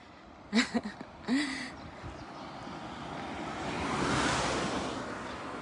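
Distant surf washing onto a shore near Hagi, Japan, a soft rushing swell that builds and fades, with brief footsteps or handling noises at the start.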